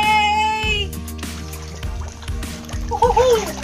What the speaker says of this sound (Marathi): फोन पाण्यात घेऊन पोहतानाचा व्हिडिओ शूट करता आलाय फायनली.